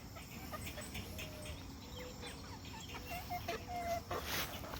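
Backyard hens cluck and murmur close by in a small flock, with short intermittent calls over steady outdoor ambience, growing a bit louder toward the end.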